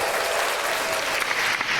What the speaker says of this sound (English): Let me get my round of applause together